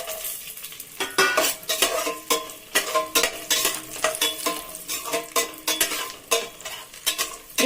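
Raisins frying in a pan for pineapple kesari, stirred with a metal spoon that scrapes and clinks in a steady rhythm over a soft sizzle, close and fairly quiet with no talking.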